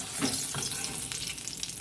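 Pumpkin pieces frying in a pan, a soft continuous sizzle with occasional stirring scrapes, heard close up and without talk.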